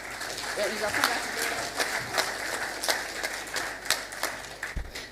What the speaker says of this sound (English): May we just give a round of applause for that?